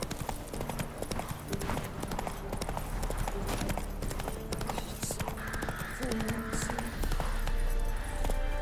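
Roach, Geralt's horse in The Witcher 3, gallops with steady, fast clip-clop hoofbeats under game music, with a brief whinny partway through.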